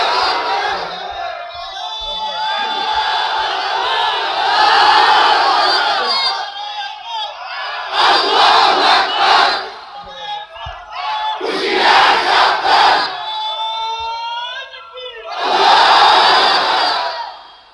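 A large crowd at a Bengali Islamic sermon gathering roars the chant Nara-e-Takbir, Allahu Akbar in loud, repeated bursts of massed voices, each swelling and falling away with short pauses between.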